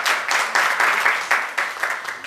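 Applause from an audience at a gathering in Abidjan, heard as a brief burst of clear, rhythmic hand claps from a modest crowd, fairly close and loud, tapering slightly toward the end.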